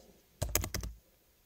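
Fast typing on a computer keyboard gives a quick cluster of about five crisp key clicks in half a second, close and isolated in a quiet room.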